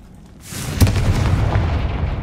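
A Confringo fire spell explodes in Hogwarts Legacy, a sharp blast with a sudden onset followed by a deep, rumbling boom that lingers and fades over about two seconds, loud and close with no voices.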